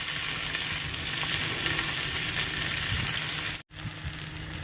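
Kochur loti, taro stolons, frying in a pan without any water, a steady crackling sizzle with fine popping throughout, close and continuous, briefly interrupted by a short cut before resuming.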